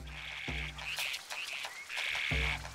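In Zelda: Echoes of Wisdom, a singing frog enemy croaks twice, each a sharp low thump with a bright warbling call, set against a soft musical backdrop with no talking.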